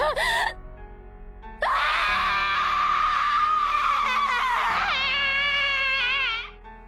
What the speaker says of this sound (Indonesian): Jeritan warga sipil di dalam gedung itu pun bergema.